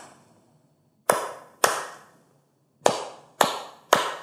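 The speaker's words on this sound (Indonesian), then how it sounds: "Oke, anak mengikuti irama tepuk tangan." Hand claps in a simple clapping rhythm game with children: five sharp, fairly loud claps, two in quick succession, a pause, then three more evenly spaced, each with a short decay and no voices.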